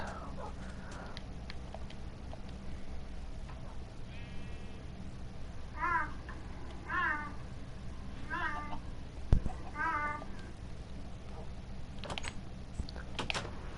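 Cat meows from Minecraft repeat about once a second over a steady background hum and mouse or keyboard clicks, with faint talk in the room.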